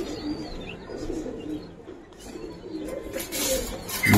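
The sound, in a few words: pigeon cooing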